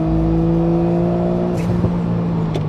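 A turbocharged Japanese sports car engine drones steadily with strong harmonic tones, then a brief rising rev and a faint turbo whistle near the end; loud and close, no talk.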